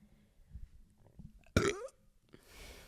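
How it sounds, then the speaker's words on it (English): A single short burp pops out abruptly in the middle of an otherwise quiet stretch, followed by a faint rustle. "I'm gonna burp."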